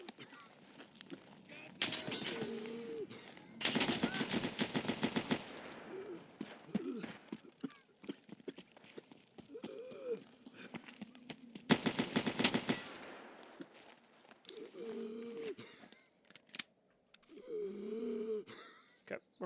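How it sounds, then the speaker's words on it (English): Bursts of rapid automatic gunfire in Escape from Tarkov, with dense volleys crackling in sharp clusters between quieter gaps and scattered single shots, while a player murmurs and breathes between them. "They started shooting faster."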